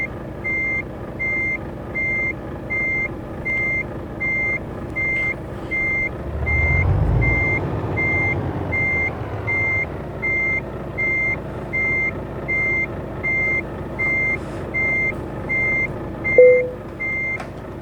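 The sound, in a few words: truck reversing beeps in video game Euro Truck Simulator 2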